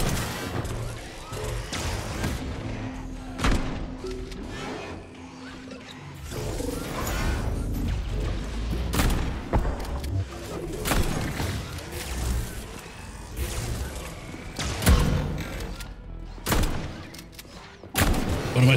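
Shotgun fire in the Atomic Heart video game: repeated loud, sharp blasts at irregular intervals, mixed with mechanical clanks and crashing impacts over a busy rumbling background.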